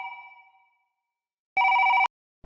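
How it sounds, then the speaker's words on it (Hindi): Electronic telephone ringtone: a fading ring tail at the start, then a short, clear warbling burst after a pause, isolated and moderately loud with nothing else audible. "फोन बजा"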